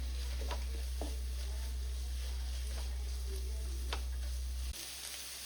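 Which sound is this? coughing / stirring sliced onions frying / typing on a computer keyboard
stirring sliced onions frying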